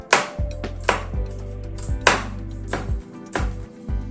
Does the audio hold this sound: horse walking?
no